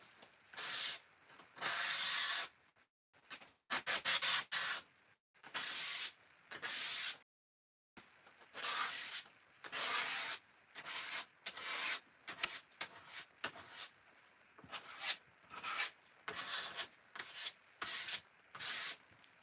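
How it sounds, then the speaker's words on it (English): Craft acrylic paint scraped across a surface, repeated close rasping strokes in irregular bursts with a few brief pauses, quiet overall and without speech. "This is where the craft acrylics are great for scraping"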